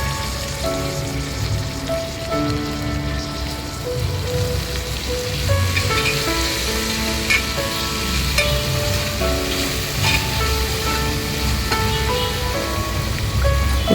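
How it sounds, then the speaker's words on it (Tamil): Chopped mint and coriander sautéing in hot oil for mushroom biryani, giving a steady, close crackling sizzle with scattered pops that runs unbroken for the whole stretch. "இப்போ நம்ம வாஷ் பண்ணி பொடிசாக நறுக்கி வச்சுருக்கிற புதினா கொத்தமல்லியும் சேர்த்து வதக்கிடலாம்."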